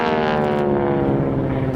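Steady, loud propeller-engine drone of an airplane flying an aerobatic loop at an airshow, a rich harmonic hum that shifts slightly in pitch as the aircraft climbs and slows near stall speed.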